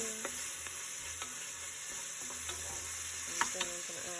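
Onions frying in a pan with ginger garlic paste added, a steady sizzle with scraping stirs of a utensil against the pan, close and continuous, with a few sharper clinks and no talking.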